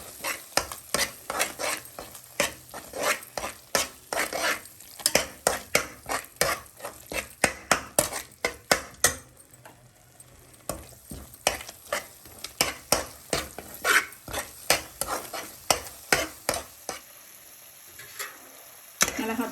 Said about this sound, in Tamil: எல்லாத்தையும் நல்லா சேர்ந்து வதக்கி விட்டுறலாம்.